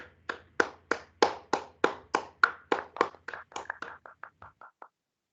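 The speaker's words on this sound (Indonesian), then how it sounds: "kita beri aplaus untuk kelompok 1 ya" Applause for group 1 in a university programming lecture: about fifteen crisp, evenly spaced claps, close and clear, slowing and softening toward the end, then silence.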